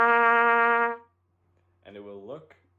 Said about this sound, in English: The first note is middle C, so that will be played without any valves